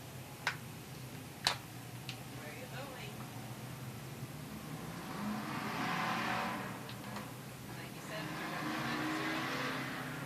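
Hobby stock race cars roll around a track during a pause before green-flag racing, engines swelling and fading as they pass, with sharp ticks early on and voices in the background.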